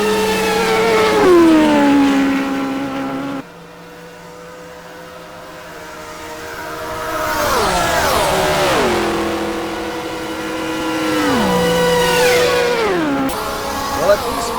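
Racing engines in a Reims Grand Prix driving game accelerate out of a corner after braking, a train of cars rising in pitch together, loud and sustained, with gear-change drops and renewed climbs, heard alone.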